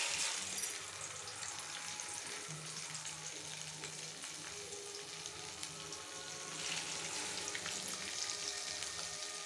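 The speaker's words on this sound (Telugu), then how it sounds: "ఇప్పుడు రీఫ్రై చేసేకి ఇదిగో 4 స్పూను నూనె వేసినాను." Fish fries in a few spoonfuls of oil in a pan, a soft continuous sizzle with faint hiss and occasional light clinks, fairly quiet and without talk.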